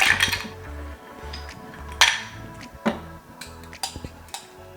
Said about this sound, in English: I'm gonna add fresh ice into the glass.